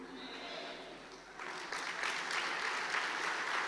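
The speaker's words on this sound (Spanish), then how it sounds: "Vamos, dale fuerte ese aplauso." A church congregation applauds. Voices and murmurs come first, then the clapping swells into a loud, sustained wash that fills the room.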